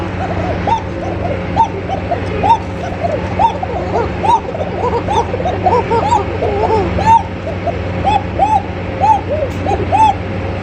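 Fancy racer pigeons in a cage give repeated cooing calls, several birds overlapping in a close, rhythmic pattern against a steady low hum.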